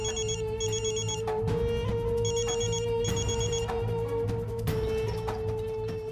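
A telephone rings in repeated bright electronic bursts over a constant low hum, with a short pause between each pair of rings.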